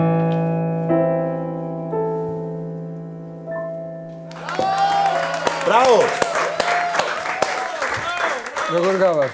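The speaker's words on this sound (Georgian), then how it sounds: "კიდევ ერთხელ აპლოდისმენტები" A studio audience at a late-night TV talk show breaks into loud, dense applause after a held musical chord fades. The clapping carries on to the end.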